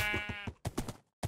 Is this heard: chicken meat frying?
no